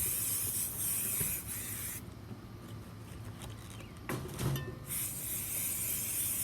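An aerosol can sprays a first coat of paint onto a ginger jar, a close, steady hiss that stops for a couple of seconds midway, then resumes with a faint rattle, and no one speaks.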